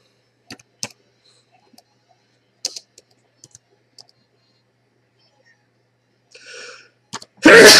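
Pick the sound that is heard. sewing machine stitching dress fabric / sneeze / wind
sneeze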